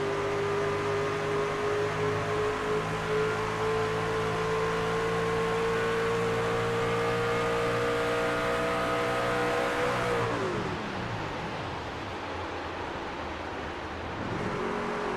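A race truck engine in a racing video game drones loudly and steadily with rising pitch under throttle, then drops sharply near the ten-second mark as the clutch goes in, before a lower, rougher idle-like tone takes over.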